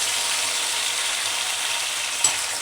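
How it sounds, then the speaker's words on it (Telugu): Tomatoes frying in hot oil give a steady, close, even sizzle that runs without a break, with one small clink near the end and no voices. "మన కొద్దిగా టమాటాలు నూనెలో బాగా ఉడకాలి."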